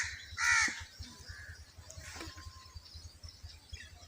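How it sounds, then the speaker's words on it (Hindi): A crow caws while teasing a buffalo: one loud, close, harsh caw near the start, then a few fainter calls against a quiet outdoor background. "ये आप लोग ये देख रहे हैं कौवा इस भैंस को तंग कर रहा है।"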